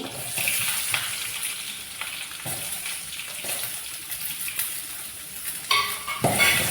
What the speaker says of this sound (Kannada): ಇದು ಒಳ್ಳೆ ಫ್ರೈ ಆಗ್ತದೆ